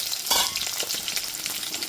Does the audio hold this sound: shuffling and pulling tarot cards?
no